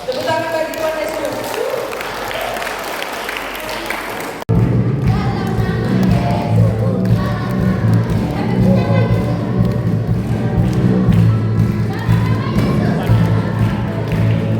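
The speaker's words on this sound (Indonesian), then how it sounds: "Tepuk tangan bagi Tuhan Yesus." An Easter celebration congregation at a school claps along under loud music and singing, a continuous rhythmic patter of hands and thumps that grows fuller partway through.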